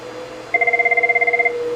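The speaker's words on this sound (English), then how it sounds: "So now my cell phone is ringing, not the Jabber client, my cell phone." A cell phone rings on a call routed through Cisco Jabber on Android, giving a steady electronic warble with a rapid pulsing trill that lasts about a second over a constant low hum.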